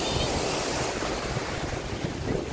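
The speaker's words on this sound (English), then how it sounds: "The wave's too strong for Bella." Strong ocean waves wash continuously onto a Hawaii beach, a loud broad roar of surf mixed with wind buffeting the microphone, with no clear talk.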